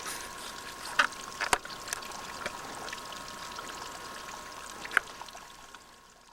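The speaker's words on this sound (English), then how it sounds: "the water is running out of the presumed portal of the adit" Water runs out of the portal of a collapsed mine adit at a prospect site, a faint steady trickle and pour with a few brief sharp drips and clicks, no talk.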